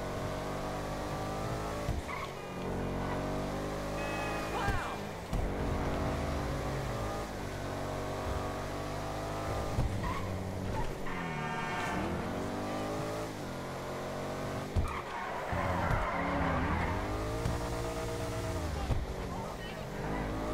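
A Baller ST-D SUV in a video game is driven hard, its engine roaring and revving continuously with bursts of tire squeal, while someone talks over it throughout.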